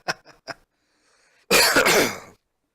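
A person on a live coding stream lets out a harsh, rough cough, a dense noisy burst lasting almost a second, close and loud, after a few short breathy throat sounds.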